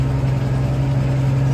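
A tractor engine runs steadily while topping a field, giving a close, continuous low hum with a firm tonal drone and no talk over it.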